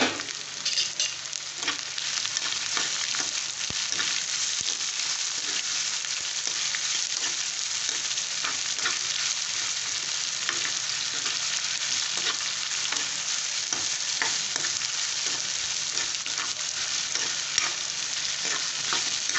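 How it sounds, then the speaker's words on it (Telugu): Thinly sliced ridge gourd frying in a pan for Telugu pappu, a steady, close hiss of sizzling with faint stirring clicks running unbroken for the whole stretch, no voices. "కట్ చేసుకున్న బీరకాయ మనం వేసుకున్నాం అండి."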